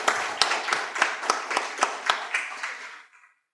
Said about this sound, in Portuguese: Um aplauso a você que está reinando.